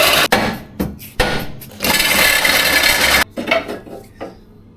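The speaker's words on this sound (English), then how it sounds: "since we're replacing the whole control arm, I think I'll cut here just to make it easier to work on." A power tool cuts through a car's suspension control arm: a few short, harsh bursts of noise, then a steady loud cutting roar lasting over a second, stopping abruptly before quieter clattering handling sounds.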